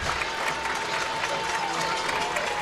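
Home crowd at a Division 6 Garaway Pirates high school football game on senior night cheers and applauds steadily as the team takes the field, a loud, continuous wash of noise.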